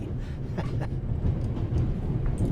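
A moving train in The Raven, a rumbling low roll with faint rhythmic rattling of carriages, steady and close throughout, with no voices.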